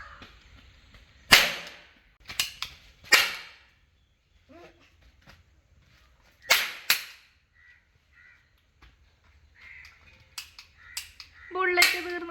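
A toy cap gun fires a handful of sharp, loud cracks spread irregularly across the moment, with quiet gaps between shots and faint voices talking in between.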